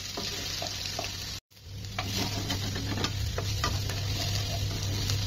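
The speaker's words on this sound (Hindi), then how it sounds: "अब इसमें दो तीन मिनट तक ऐसे भून लेंगे" Soya chunks frying in hot oil in a pan, a continuous sizzle with scraping stirs, briefly cut off before resuming steady and close.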